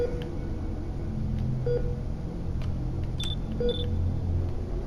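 Short electronic beeps sound on a ship's bridge in the game Genesis Alpha One, a few sparse tones with a double blip near the end, over a steady low hum.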